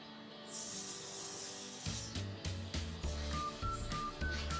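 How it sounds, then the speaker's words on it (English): Cooking oil sprayed from a can onto chicken on a wire rack over a baking sheet pan, beginning as a sustained close hiss that gives way to clattering handling noises. "And then you spray this chicken also with oil."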